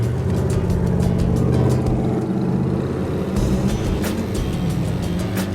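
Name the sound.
nitrous muscle truck accelerating on slicks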